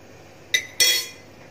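Two quick metallic clinks, like a spoon striking the side of a pot of palm sugar being stirred, ring out close and crisp in an otherwise quiet kitchen.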